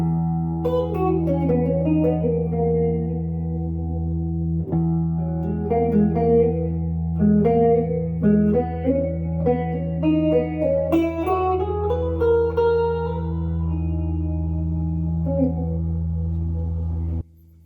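A steady low drone sustains beneath a melodic line of plucked or bowed string notes, played with effects and reverb, continuous throughout.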